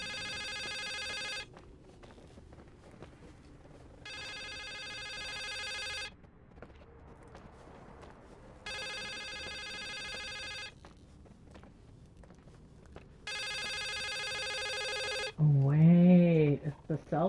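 A telephone rings in the video game The Suicide of Rachel Foster: four loud, steady electronic ring bursts of about two seconds each, separated by pauses with faint room noise, then a brief warbling sound at the end.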